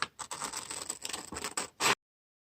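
Scissors cutting out a paper circle, a short run of close, crisp snipping and rustling strokes ending in one sharper cut.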